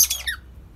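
A Bambi bird in an aviary cage gives one short, bright squawking call that quickly fades, leaving only low background noise.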